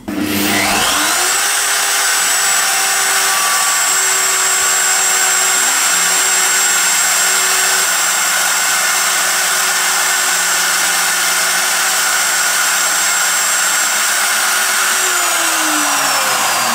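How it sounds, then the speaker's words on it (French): A 3 mm end mill cuts Fender Rhodes Mark 1 keys, a steady high whine of the spindle and cutter rising in at the start and holding loud and unbroken for about fifteen seconds before winding down. "On va utiliser une fraise de, pardon pour la caméra, 3 mm de diamètre, coupe frontale."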